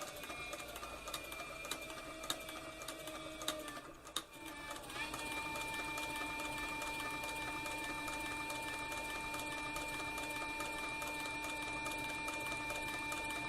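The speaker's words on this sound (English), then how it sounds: "my bobbin winder over here is winding the bobbin as I sew this flank strap right here" A Cowboy CB4500 leather sewing machine stitching a leather flank strap, a steady fast mechanical whir with rapid needle ticking and a brief dip before resuming, while the bobbin winder runs alongside; fairly quiet and alone.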